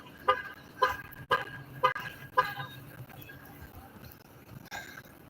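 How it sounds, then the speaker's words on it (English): Several short car horn toots sound in a busy Los Angeles street, a cluster of about five quick honks close together, then a later single beep over steady traffic rumble. "they were honking at me"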